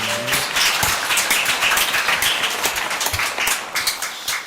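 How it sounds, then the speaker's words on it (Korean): A congregation at a Wednesday Baptist church service in Korea claps together in a thick, sustained wash of applause that fills the room evenly for several seconds with no voices over it. "하나님께 영광의 박수 올려드리도록 하겠습니다"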